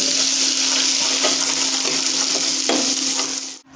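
Chili paste added to spluttering mustard seed tempering in hot oil gives a loud, continuous sizzle with faint stirring scrapes, fading out at the very end.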